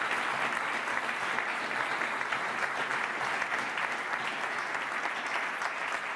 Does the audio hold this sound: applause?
yes